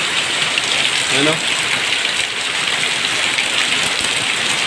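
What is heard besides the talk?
heavy rain and flooding during typhoon Carina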